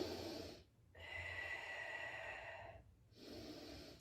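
Slow, deep breaths during a stretching exercise for a herniated disc, with two long airy exhalations and inhalations separated by brief pauses, close and fairly quiet.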